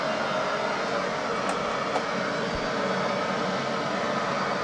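Boeing 737-800 engines at takeoff thrust in a flight simulator game, a steady, loud broadband roar that holds without a break, with no voices over it.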